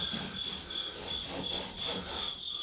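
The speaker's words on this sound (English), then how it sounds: "I'm just gonna go ahead and rub that stuff there off." Rubbing residue off the surface of an old wooden Hoosier cabinet by hand, a steady scratchy scrubbing in repeated strokes, close and fairly quiet, with no talk.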